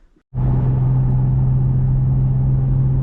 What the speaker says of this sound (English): Alrighty guys, just taking it for a drive